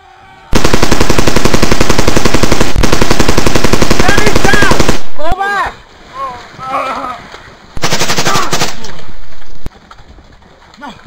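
A machine gun fires in two loud, rapid, continuous bursts, with a pause between them that holds cooing pigeons and a voice speaking.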